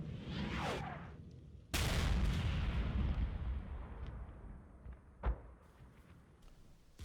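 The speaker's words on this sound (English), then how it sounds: "The battle is started with harassing fire from 2 of the 81mm tubes onto KT1." Harassing fire from two 81mm mortar tubes in the wargame Combat Mission, a whooshing incoming round followed by a loud explosion with a long rumbling decay, then a sharper distant blast.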